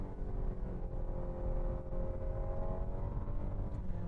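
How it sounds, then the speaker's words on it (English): A 2018.5 Nissan Rogue Sport SL accelerates smoothly without shifting, heard from inside as a steady low engine drone with rising tonal whine and road rumble. "Acceleration on this car is pretty smooth as well"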